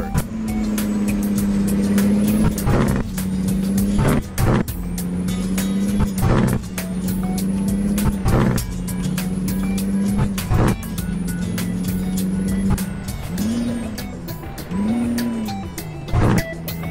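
A Kenworth K200 truck in American Truck Simulator revs up repeatedly through its gears, engine pitch rising and dropping at each shift with brief pauses between, loud and close, with no one talking.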